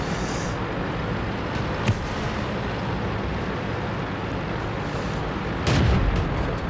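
A KV-13 tank in World of Tanks fires its gun, with two sharp booming shots, the louder one near the end, over a steady rumble of engine and battle noise.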